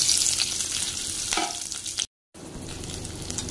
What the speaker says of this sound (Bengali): কড়াইয়ের মধ্যে তেল দিয়ে নিয়েছি, তেলটা গরম হয়ে গেছে। আমি যে পেঁয়াজগুলো কেটে রেখেছিলাম সেগুলো আমি দিয়ে দেব